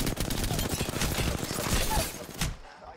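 Rapid automatic bursts from an R-301 rifle in Apex Legends crackle continuously and loud for over two seconds, then cut off abruptly into near silence.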